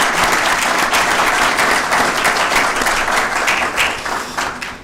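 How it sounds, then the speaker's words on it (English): Conference audience applauding to thank the staff, a loud, dense wash of clapping sustained for several seconds before thinning slightly at the end. "if you join me in a quick round of applause to thank the staff thus far"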